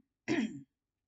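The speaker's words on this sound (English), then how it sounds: "Let me clear my throat." A single short throat clearing, close and fairly soft, lasting under half a second, alone in an otherwise silent room.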